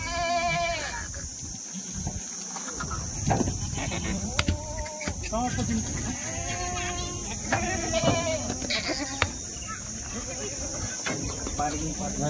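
Goats bleat repeatedly and fairly close, including a large doe that has just given birth, in a series of wavering calls while people talk over them.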